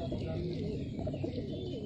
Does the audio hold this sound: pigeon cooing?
yes